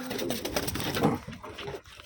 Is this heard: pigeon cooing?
yes